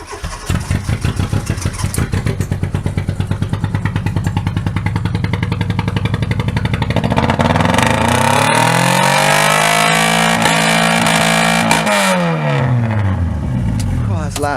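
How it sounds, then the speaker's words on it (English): A V8 race car engine revs hard close by, a rough idle climbing into loud sustained revving with rising and falling pitch sweeps, voices talking over it. "Race car, mate. Yeah. It's a V8."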